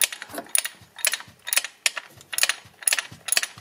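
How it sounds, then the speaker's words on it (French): A ratchet wrench with a 14 mm socket tightens a bolt on a Mercedes starter motor, giving about seven quick bursts of metallic clicking at an even rhythm, up close and alone. "Je suis en train de serrer avec du 14."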